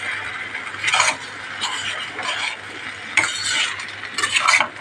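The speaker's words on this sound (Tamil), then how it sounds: "எல்லாத்தையும் நல்லா மிக்ஸ் பண்ணிக்கலாம்." A spoon stirring sago kichadi with chopped peanuts and coriander in a pan, repeated scraping strokes over a light sizzle at close range, with occasional clinks against the metal.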